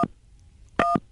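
Telephone keypad tones as a number is dialed for a prank call: a few short, loud, close beeps separated by a pause, with no voices.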